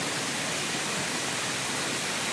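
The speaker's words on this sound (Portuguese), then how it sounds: "eu quero pegar a cachoeira" Cachoeira do Canão waterfall pours in a steady, hissing broadband rush, heard close and continuous for a couple of seconds with no talk.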